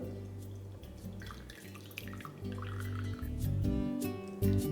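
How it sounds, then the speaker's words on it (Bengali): Whey drips and trickles steadily from fresh chhena strained through a muslin cloth in a home kitchen, making soft close patters and small splashes with a low background hum. "মাসলিন ক্লথ দিয়ে দিচ্ছি যাতে ছানাটা আমি পারফেক্টলি ছেঁকে নিতে পারি"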